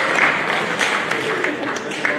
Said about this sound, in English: Go ahead and give your parents a round of applause.